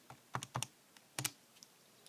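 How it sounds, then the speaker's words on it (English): Buttons on a calculator are pressed to enter numbers: a handful of soft, quick plastic taps in uneven clusters, quiet and close, with silence between presses. "So if I type that in on the calculator"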